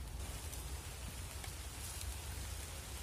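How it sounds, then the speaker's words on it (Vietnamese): Steady rain hisses evenly outdoors, a soft continuous patter with no voices, fairly faint and constant throughout. "Mưa luôn rồi cả nhà ơi."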